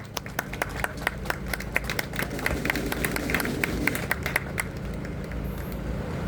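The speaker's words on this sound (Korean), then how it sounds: "여러분 뜨거운 박수 부탁드리겠습니다" Scattered applause from an outdoor audience at a Korean national rally, with distinct individual claps spread steadily over a low crowd rumble and a continuous hum.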